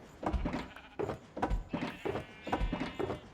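Repeated bleating from purple sheep in a Minecraft game, several overlapping calls in quick succession at close range, with no talking.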